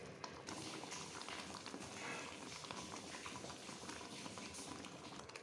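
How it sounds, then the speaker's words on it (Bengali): Lentil dal with chopped coriander simmers in a pot, a faint, steady bubbling hiss that continues evenly throughout without talk. "দিয়ে দেব কুচনো ধনেপাতা, দিয়ে ফুটতে দেব যতক্ষণ না গাঢ় হয়ে আসছে।"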